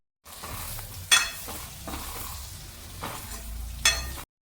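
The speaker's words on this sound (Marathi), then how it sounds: "आता या उकडून घेतलेल्या शेंगा ॲड करूया" Boiled drumstick pods dropped into a hot spiced tempering for a Maharashtrian drumstick dal, with close sizzling and stirring, two sharp scraping clatters of a spoon against the pan, and a steady frying hiss beneath.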